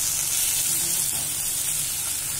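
Ginger and other ingredients for a paneer capsicum gravy sauté in a pan, giving off a steady close hiss of sizzling oil with only slight variation and no stirring breaks.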